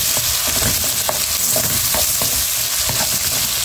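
Ingredients for pinakbet, including small shrimp, are sautéed in a hot pan, giving a loud, steady sizzle with spatula stirring clicks and scrapes throughout, close by and without talk.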